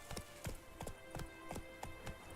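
Horse hooves in The Witcher 3, a steady clip-clop of several hoofbeats at an even trotting rhythm, close but fairly quiet, with no voices over them.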